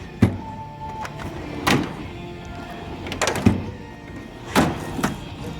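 Toolbox drawers sliding and thudding, several separate dull knocks and clunks spaced a second or so apart, close and fairly loud, with no voices.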